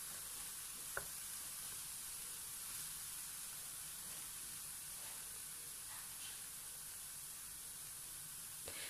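Thinly sliced onion fries in a pan for a creamy one-pot pasta with escalope, giving a faint, steady sizzle with a few soft stirring clicks and no talking.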